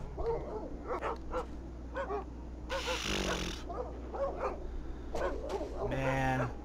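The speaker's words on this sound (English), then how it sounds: "Oh, don't whimper!" A dog in the Iron Storm video game yips and whimpers in a run of short, repeated cries, swelling into louder barks near the end, with someone talking over it.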